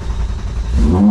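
A loud race car engine cold-starts in a garage, a rough low rumble building and swelling into a strong, steady roar near the end of the brief burst.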